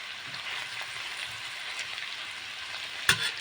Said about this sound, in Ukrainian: останнє, що у нас це насіння чили, посипаємо до ладу і перемішуємо